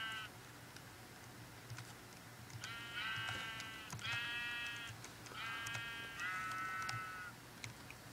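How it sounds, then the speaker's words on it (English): Sheep in Minecraft bleat in several wavering, nasal calls in two pairs, each about half a second long, over a steady low background hum. "Sheep are so annoying."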